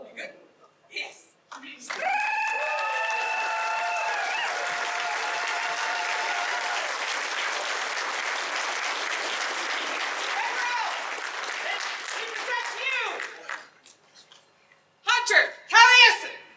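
Sustained applause from an audience at a ceremony elevating a member to the mark, a broad steady wash of clapping for about twelve seconds with cheers and voices over it, followed by scattered talk and a final short burst.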